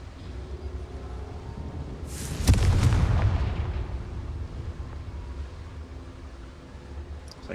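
A Confringo fire spell explodes inside a goblin mine in Hogwarts Legacy, a single loud booming blast that rolls off into a long fading rumble before the quiet returns.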